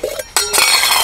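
A Camelwil 1.2 liter camping pot with a stove packed inside clinks and scrapes as it is pulled out. There are two quick metallic clatters close up, followed by a brief rattling shuffle.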